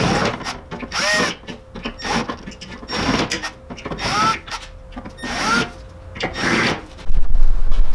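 Holes being cut into a plastic aftermarket rear diffuser for a BMW E36, giving repeated rasping, grinding bursts in several close, loud passes with short pauses between them.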